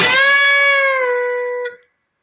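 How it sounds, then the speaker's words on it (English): A single guitar note rings out clearly, its pitch gently drooping as it sustains, then cuts off abruptly into silence. "if I just bend up and then let it down naturally, it would sound kind of like this"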